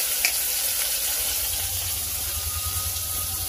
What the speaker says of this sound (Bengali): আর ওদিকে বেগুনটা ভাজা হচ্ছে।